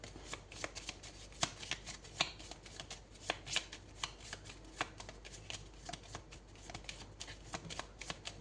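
Oracle cards are shuffled up close, giving a quiet, rapid riffling and soft papery slaps that repeat in bursts throughout.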